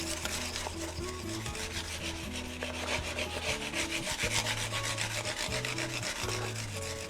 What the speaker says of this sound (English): The fret ends get smoothed out.